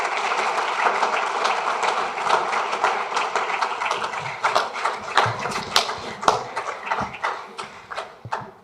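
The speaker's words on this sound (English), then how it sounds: "Please give a great applause for our panelists." A conference crowd claps steadily for a panel, a dense patter of applause that thins into scattered individual claps toward the end.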